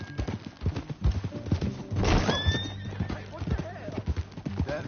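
Hooves clip-clop steadily while a horse whinnies loudly midway, under voices and game music.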